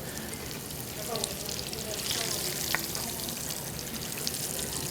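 Crab cakes deep-frying in hot vegetable shortening give a steady, dense sizzle and crackle that runs throughout at close range.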